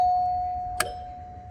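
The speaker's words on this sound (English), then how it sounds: "And this is what the front door sounds like." A front-door doorbell chime rings with a sustained bell tone that fades slowly, cut across midway by a sharp click or strike, heard up close in a quiet room.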